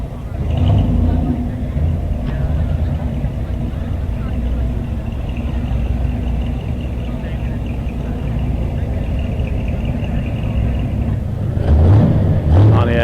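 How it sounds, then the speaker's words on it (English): A car rolls in to park at a Sunday morning car show, a steady low engine rumble and road noise running throughout, with people talking over it. "there's Tommy parking his purple vehicle"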